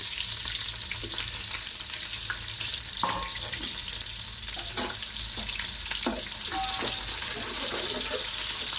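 Two large onions fry in oil in a pan for prawn biryani, giving a continuous loud sizzle with scattered light clinks and stirring scrapes, no talking.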